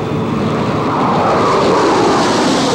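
A Chilean Air Force airplane from Punta Arenas passes overhead with a loud, broad engine roar that builds slightly and holds steady throughout, with no voices.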